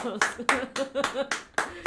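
Sharp hand claps ring out in a quick, steady series of about seven, close and distinct, with a voice underneath.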